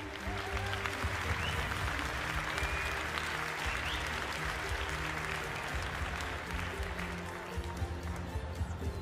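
Audience at a Montbéliarde cattle breed show at the Paris agricultural fair applauds steadily for several seconds, a dense, even wash of clapping in a large hall.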